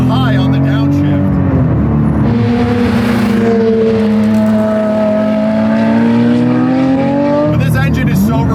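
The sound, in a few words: Porsche 911 GT3 RS 997 Mezger flat-six engine revving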